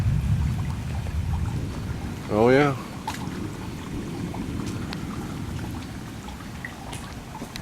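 Heavy rain pours down outside a half-flooded garage, a dense, steady hiss and patter with low rumble throughout, and someone briefly speaks over it.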